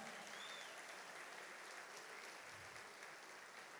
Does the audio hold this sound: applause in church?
yes